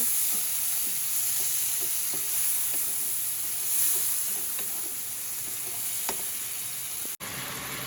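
Tomatoes sizzling as a sour vegetable curry is sautéed in a pan, a steady close frying hiss with scattered soft stirring scrapes, no voices.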